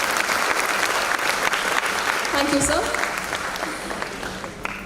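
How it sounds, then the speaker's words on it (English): Audience applause at an awards ceremony honouring academicians and researchers, a steady full clapping from a sizable crowd that fades slightly toward the end, with someone briefly speaking over it. "Once again, have a big round of applause for this gentleman"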